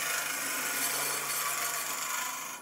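Nano-crystalline carbide cup cutter hollowing a spinning wooden form on a lathe, giving a steady close, bright scraping hiss that fades slightly at the end.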